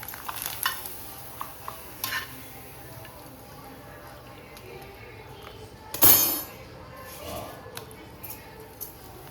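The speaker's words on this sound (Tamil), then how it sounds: "அப்பளத்தை பொரிச்சு எடுத்துக்கலாம்." Appalam (papad) fries in hot oil, giving a low crackling sizzle with intermittent stirring scrapes and one sharp louder burst partway through.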